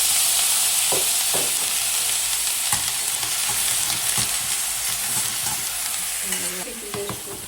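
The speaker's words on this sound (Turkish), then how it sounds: "Ve aynı yağın içine hemen koyuyoruz domates." Tomatoes frying in hot oil left from cooking meatballs, a steady loud sizzle with occasional stirring clicks and scrapes from the pan throughout.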